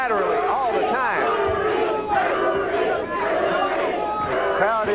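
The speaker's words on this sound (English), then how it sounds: "The crowd is chanting, Rudy, Rudy for Rudy Hatfield" A boxing crowd chants rhythmically for a fighter, many voices rising and falling together in loud, repeated calls over a constant arena roar.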